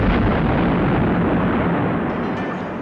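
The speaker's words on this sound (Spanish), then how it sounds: "¿por qué le disparan un cañonazo al frontis del palacio?" A cannon shot fired at the front of the palace booms loud and close, a sustained roaring blast and rumble that slowly fades over several seconds.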